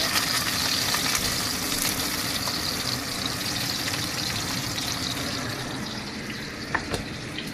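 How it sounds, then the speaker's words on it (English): Loud, steady sizzling of two onions and a green apple searing on high heat in a pan for Vietnamese pho, continuous throughout, with a small clatter near the end and no voices. "Now we'll be searing the 2 onions and the green apple on high heat"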